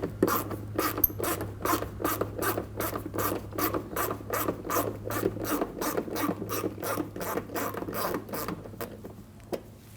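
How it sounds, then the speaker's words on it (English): A 7mm socket ratchet loosens fender liner screws on a 2010-2019 Ford Taurus, giving a steady run of rapid, close clicks over a low hum for the whole stretch, tapering slightly near the end. "Use your 7mm socket to go ahead and loosen and remove these screws."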